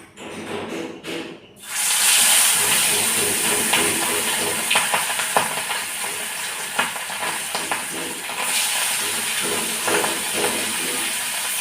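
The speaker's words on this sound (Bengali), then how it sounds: "এদিকে পম্পের মাছটা ভাজা চলছে" Pomfret fish frying in a pan, a loud, close, continuous sizzle with popping oil crackles that starts abruptly after a brief quieter moment and keeps on steadily.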